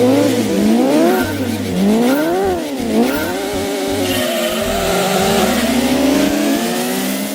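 An Alfa Romeo 155 V6 Ti engine in a PlayStation racing game revs hard, its pitch rising and falling repeatedly with the gear changes, loud and continuous.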